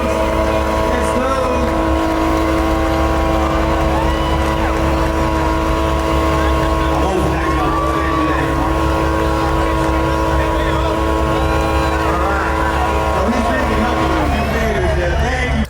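A BMW drifting at a large BMW car meet in West Palm Beach, Florida, its engine droning loud and steady with rising and falling revs throughout, while onlookers talk and call out over the noise.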